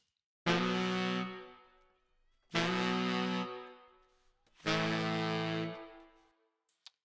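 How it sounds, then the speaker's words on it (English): Three loud, sustained brass chords hit in turn, each swelling briefly then fading, with short pauses between them. "we also have Michael Gale doing the stabs with the horns"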